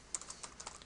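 A few light keystrokes on a computer keyboard, soft quick clicks in an irregular rhythm, quiet and close with no talk.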